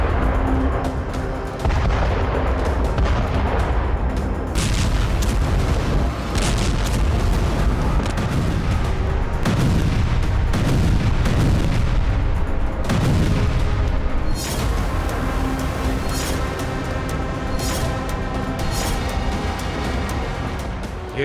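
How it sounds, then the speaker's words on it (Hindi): Israeli 2000-pound bombs exploding over Gaza, heavy booming blasts and deep rumbling roars piling up continuously, loud and reverberant, with several distinct impacts standing out and no voices. "हमास के अड्डों को दफन करने के लिए इजरायली सेना अब 2000 पाउंड वाले बम गिरा रही है।"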